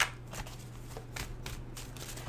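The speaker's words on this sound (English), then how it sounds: "So let's pull out some more cards." Tarot cards pulled out of a deck, making a few close, soft papery swishes and flicks spaced about half a second apart over a low steady hum.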